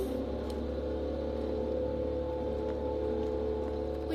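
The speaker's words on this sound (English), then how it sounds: "He's literally blowing leaves" A steady engine drone hums continuously at moderate volume, like a leaf blower running somewhere nearby, with no talking.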